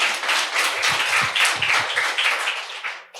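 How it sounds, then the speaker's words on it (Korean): An audience at a seminar presentation bursts into brief, lively applause to cheer on the speaker, with dense clapping and a few low vocal sounds mixed in for about three seconds. "큰 박수로 저를 응원해 주시기 바라겠습니다."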